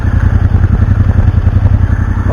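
A Royal Enfield Interceptor 650 twin-cylinder engine with dual exhausts idles close up, giving a steady, loud, low, evenly pulsing burble with no voices heard.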